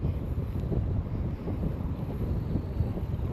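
Cool evening wind rushing steadily across open farmland planted with corn, a continuous low buffeting roar against the microphone with no voices.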